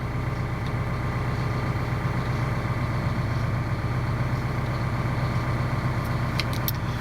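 A Liebherr 934 long reach excavator's diesel engine runs at a steady idle, a constant low rumble close by with no change in speed, a few faint metallic ticks near the end.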